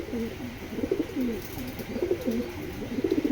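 Several racing pigeons, including a big pair, coo nearby in repeated throaty, rolling calls that overlap continuously against a steady background hum.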